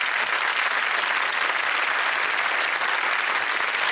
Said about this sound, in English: OK, lovely round of applause there, Dina.